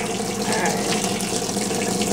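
A washing machine set to a small, cold, light load of glue tie-dyed fabric fills with water, a loud, steady, continuous rush of water with no pauses.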